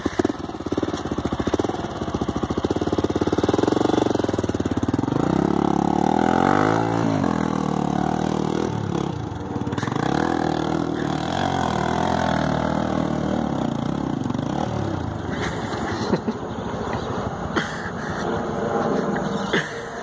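A Honda NX4 Falcon motorcycle engine revs and strains, pitch rising and falling as the bike works its way up a rough trail, loud and close throughout.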